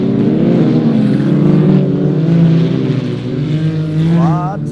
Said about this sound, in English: Lots of turbo noise right here as they come by.